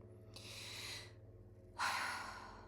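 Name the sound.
speaker taking a breath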